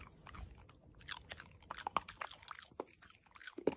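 A pet crunches and chews a piece of hard food, with rapid, uneven bites and crackling breaks heard up close, no talking.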